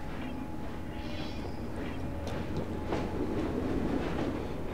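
A steam-era train rolls along in Assassin's Creed Syndicate, with a steady rumble and clattering wheels and occasional metallic clanks, loud and continuous, with no talking.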